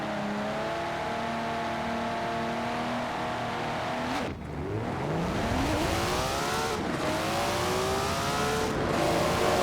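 A fully built Nissan Skyline R34 in Forza Horizon 4 launches hard, its engine climbing and revving loudly with steady harmonic sweeps, dropping briefly at each of several quick gear shifts before pulling up again, with no talk over it.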